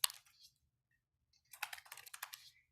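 Soft typing on a computer keyboard, a few quick keystrokes at first, then after a pause a denser run of light clicks, faint and close in an otherwise quiet room.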